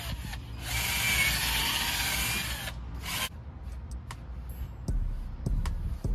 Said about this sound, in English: Harbor Freight drill isn't too bad. It's not spinning fast.